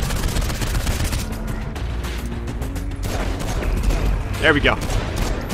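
Rapid, sustained gunfire from the video game Saints Row 4, a loud continuous clatter of shots running throughout, with someone talking over it.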